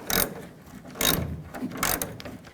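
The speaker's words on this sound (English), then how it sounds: "And tighten down the bolts." A ratchet wrench tightens the tailgate hinge bolts on a 1999-2007 Chevy Silverado 2500, three short bursts of rapid clicking with pauses between, close and fairly loud.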